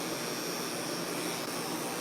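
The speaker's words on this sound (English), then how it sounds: "That's why you can hear the dryer in the background." A pet dryer blowing on a cat in a crate makes a steady, loud broadband whoosh with a faint whine, unchanging throughout with no voices.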